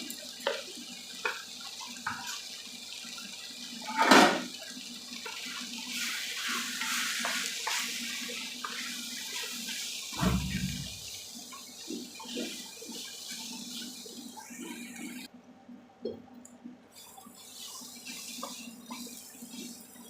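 Water is poured and splashed into a pan of brinjal (eggplant) thokku cooking with sambar powder, chili powder and turmeric, giving a short splash followed by stirring and sizzling sounds, fairly close, with no talk.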